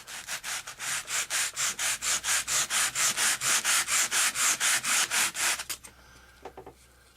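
Steady back-and-forth rasping of sandpaper on a wooden part of an F-86 RC model airplane, about two strokes per second, close and loud, stopping near the end with a few light scrapes.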